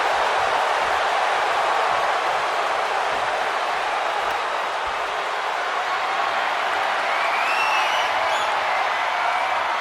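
An arena crowd in the WWE 2K24 video game keeps up a loud, steady roar of cheering during a falls count anywhere gauntlet match, a continuous wash of noise with no breaks.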